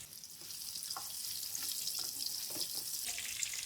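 Boiled, peeled potatoes fry in ghee in a pan with a steady, close sizzle. The crackle is continuous and fairly soft, with faint stirring clinks and no voices.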